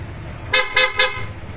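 Three quick, bright honks of a PIAA horn on a Honda Click 160 scooter in a steady rhythm, close and fairly loud over faint background hum.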